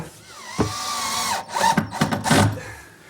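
Power drill driving screws to fasten a kitchen cabinet to the adjacent set cabinet, a few short whirring bursts with rising and falling pitch, close and fairly loud.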